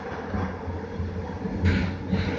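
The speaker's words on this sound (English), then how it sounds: "There's another train coming outbound there." A SkyTrain car on the Evergreen Line rumbles and hums steadily on the rails, with a brighter surge of passing noise near the end as an outbound train goes by.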